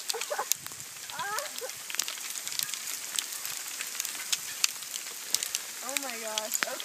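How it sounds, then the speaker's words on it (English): Hail falling on a mountain trail on the San Juan Trail, a dense patter of sharp ticks and pellet hits spread across the whole stretch, with excited voices breaking in now and then. "It's hailing!"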